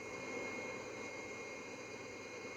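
An old airplane's engine drones in flight on a foggy day, a steady, faint, airy roar with no talk over it.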